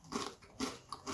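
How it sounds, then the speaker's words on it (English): Crunchy homemade gingerbread cookies being bitten and chewed up close, two or three sharp crunches in quick succession, with no talking. "Oh, that crunch is so good."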